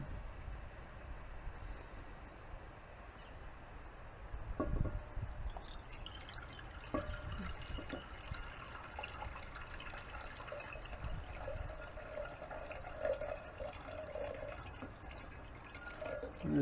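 Liquid is poured off from a jar used for refining silver from silver plate, a faint trickle and splash with occasional clinks of glass, recorded up close in a quiet room.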